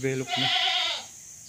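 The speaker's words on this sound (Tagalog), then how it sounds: "Yan ang kambing, wow, kambing." A goat on a farm in Nagcarlan, Laguna, Philippines bleats loudly and close by, a wavering, nasal cry lasting about a second, with a brief vocal sound just before it.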